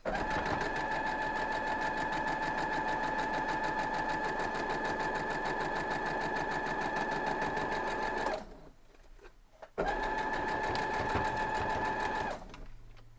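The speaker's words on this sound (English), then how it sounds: "And sew it down." A sewing machine stitching quilt block pieces, a fast, steady, close mechanical whir and rattle running for about eight seconds, pausing briefly, then running again for a few more seconds.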